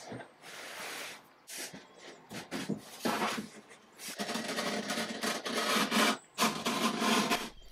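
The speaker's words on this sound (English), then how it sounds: "I didn't actually realize I was cutting through both sheets of veneer" Sheets of wood veneer being cut by hand during an old file cabinet restoration: repeated rasping, scraping strokes in uneven bursts with short pauses, close and moderately loud.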